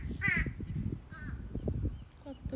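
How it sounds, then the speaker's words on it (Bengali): A crow caws from overhead in a couple of harsh, grating calls, close and fairly loud, alongside outdoor rustling and someone speaking. "আরেক কাক তো উপর থেকে ডাকছে।"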